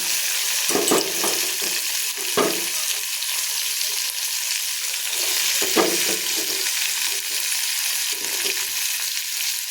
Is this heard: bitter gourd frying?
yes